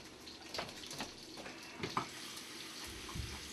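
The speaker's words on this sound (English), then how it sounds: "I'm going to put water into here about like this" Tap water runs steadily into a cooking pan that holds chicken and will be brought to a boil for stuffed quahogs, making a soft, close splashing stream with a few brighter splashes.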